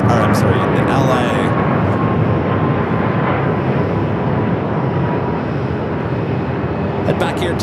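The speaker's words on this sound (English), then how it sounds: "the Delta A330-300, the flight coming in from Detroit" Delta Airbus A330-300 widebody jet arriving from Detroit at Phoenix Sky Harbor, a loud, steady broadband engine roar and rumble that stays close and dense throughout without fading.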